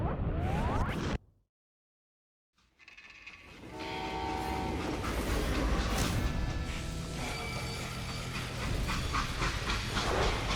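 A steam train in the Western video game Call of Juarez Gunslinger hisses and rumbles, cuts to near silence for a moment, then returns with steady chugging, steam hiss and a horn-like tone, loud and close with no talk.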